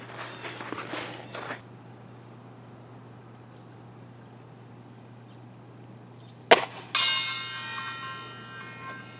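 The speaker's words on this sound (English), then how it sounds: "We'll know if the saw blades bang." An air rifle pellet strikes a metal saw blade target, giving a sharp metallic bang followed by a ringing, shimmering tone that fades after about two seconds; a muffled shot sounds earlier, with quiet surroundings between.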